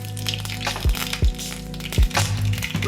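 Mustard seeds splutter in hot oil, a few sharp loud pops and cracks spaced irregularly over a low steady sizzle, close up with no talking.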